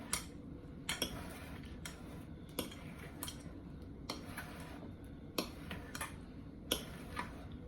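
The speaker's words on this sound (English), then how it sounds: "And then just give it a little stir." Metal utensil clinking and tapping against a bowl while a simple vinaigrette dressing is stirred, a series of light, irregular ticks spread over several seconds at moderate closeness.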